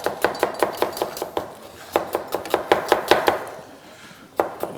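A knife finely chopping onion on a board in a kitchen, sharp rapid taps in quick regular bursts with a short pause before a final few strokes, close and crisp, with no talking.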